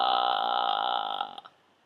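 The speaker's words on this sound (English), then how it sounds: "The other thing you can do to relax your larynx is to do something called vocal fry." A relaxed vocal fry, a low creaky rattle from loosely rubbing vocal cords, sounds close and clear for about a second and a half before breaking up and fading out.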